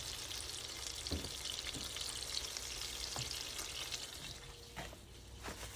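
Homemade meatballs, bound with egg and milk-soaked bread, fry in a pan with a steady, crackling sizzle throughout, with a few sharp pops and light knocks as they are set in.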